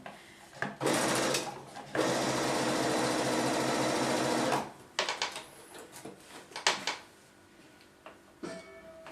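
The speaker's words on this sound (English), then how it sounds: "While you're sewing, remember, keep your seams the way you've ironed them as they're going under the foot or through the plate of the machine" A sewing machine stitching quilt seams, with a short burst followed by a longer steady run of rapid stitching, then fabric handling and light clatter nearby.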